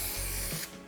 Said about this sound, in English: when you're spraying, be very careful that you don't get any glue on the surface we want to present